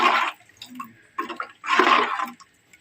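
Tamarind solution is poured into a pot of simmering kuzhambu. The liquid splashes and gurgles in three short bursts separated by brief pauses, close up and moderately soft.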